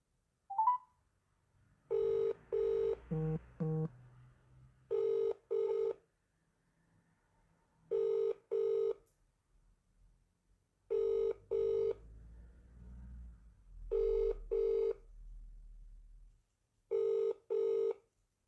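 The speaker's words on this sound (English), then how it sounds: "Ringing up Graeme Kenna." Touch-tone beeps sound in short bursts of two and three, with gaps between groups, like a number being keyed in on a phone.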